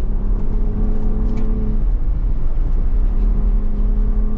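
2024 Ford Bronco Raptor rolling off-road in Baja mode, a steady low engine drone with tonal hum heard from inside the cabin, fairly loud and continuous, with light rattles over rough ground.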